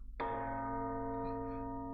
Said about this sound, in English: You guys hear bell tolling noises?